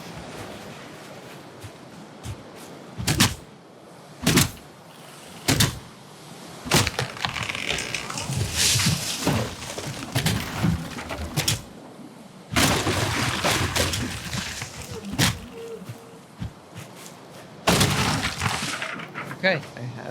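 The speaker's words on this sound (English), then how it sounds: "So if I go to cut down this birch tree here," Axe chops on a birch tree in the Viking survival game Valheim: a series of sharp, loud impacts at uneven intervals, then a few louder cracking bursts as the tree comes down, with game ambience and someone talking in between.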